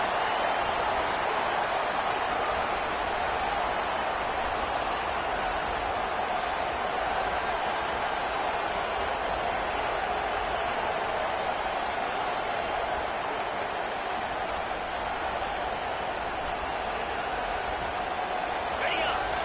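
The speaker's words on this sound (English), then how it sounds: "this crowd is fired up. Listen to this noise here." A large college football stadium crowd in a video game roars steadily, a dense, sustained wash of cheering that stays loud throughout.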